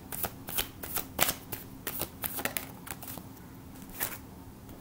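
Tarot cards being shuffled by hand, a run of quick papery riffles and slaps in irregular bursts, close and fairly quiet with no talking.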